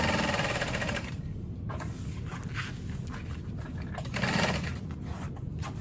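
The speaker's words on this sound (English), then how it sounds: "you're going to sew in a U shape only around 3 sides" A sewing machine stitches backpack fabric in a U shape around three sides, a steady close mechanical whir running throughout with brief pauses and speed changes.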